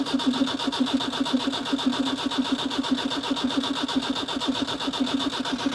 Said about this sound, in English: Ignition on. Bit of throttle.